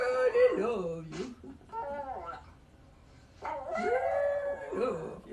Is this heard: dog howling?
yes